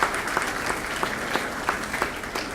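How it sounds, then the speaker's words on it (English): An audience at a school partnership breakfast gives a round of applause, dense continuous clapping with a few sharper claps poking through, steady and moderately loud throughout. "round of applause for that"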